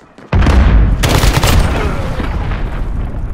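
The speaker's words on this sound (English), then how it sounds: "Cruise missile incoming" A cruise missile strike in a video game hits with a sudden loud, close boom, then a long, heavy rumbling roar that fades slowly.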